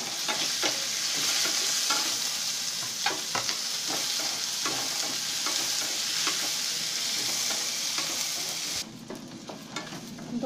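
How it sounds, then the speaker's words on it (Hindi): Onions fry in a pan with browned cumin for a pointed gourd and yogurt curry, with a loud steady sizzle and frequent scraping stirs of a spatula, then the hiss drops sharply near the end, leaving quieter frying. "दोस्तों भूरा होने तक इस प्याज को भूनते हैं।"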